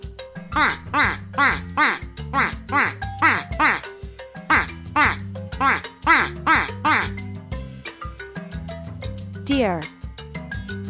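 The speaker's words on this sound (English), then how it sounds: "Duck." Loud, close duck quacks repeat in quick, evenly spaced bursts of nasal calls, grouped in series with short pauses, ending in a brief descending call.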